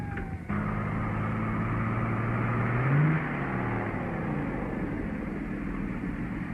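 A car engine drones steadily as the car speeds along the road, with a brief rise in pitch partway through, heard alone and without talk.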